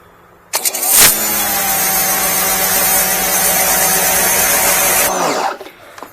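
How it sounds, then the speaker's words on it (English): TEANDE TE-5240 3000 PSI, 2.8 GPM pressure washer firing through a turbo nozzle with a rotating zero-degree tip. A loud, steady hiss and engine roar kicks in after a short startup burst, holds for about four seconds, then cuts off. "This is what a turbo nozzle does."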